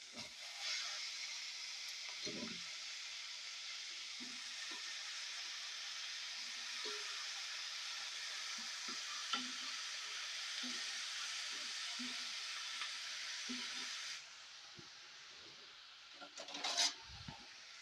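Brinjal pieces and fried onions sizzle in a pan, a steady, fairly faint frying hiss with scattered soft clinks and stirring knocks, ending in a brief clatter.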